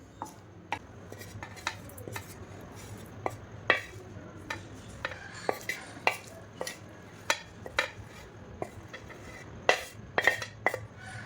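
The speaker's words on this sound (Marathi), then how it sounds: "अशा प्रकारे कांडून घेणार आहोत आपण" Green chillies and tomato being coarsely pounded for a Maharashtrian thecha, giving a series of sharp, irregular knocks and clatters close by, spaced through the clip against a low background hum with no talk.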